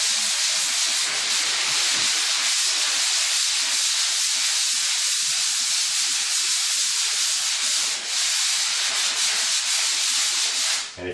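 Sandpaper rubs drywall compound in a steady circular motion, producing a loud, continuous abrasive hiss that holds without pause, close up and with no voices.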